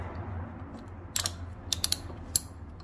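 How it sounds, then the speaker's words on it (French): A ratchet with a socket tightens a bolt on a SYM Cruisym scooter during a transmission oil change. A few faint, quick clicks come in short irregular spurts over a quiet room hum. "j'avais deux racagnac avec les douilles différentes"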